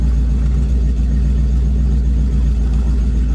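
A turbocharged 5.0 engine in a Ford Ranger idles with a steady, loud, low rumble heard close up and alone, with no revving.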